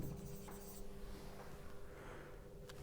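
Marker or chalk writing on a board, a faint steady scratching of strokes over a constant low hum, with a brief sharper tap near the end and no voices.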